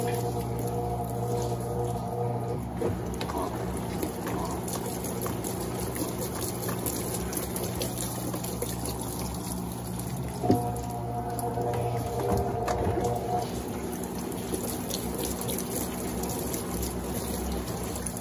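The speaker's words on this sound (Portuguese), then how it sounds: "Eu vou jogando água aqui para tirar a espuma de cima." Water poured into the tub of an Electrolux Blue Touch 12 kg washing machine to rinse off foam, a steady splashing pour under the machine's running hum, continuous throughout with a brief sharper splash partway.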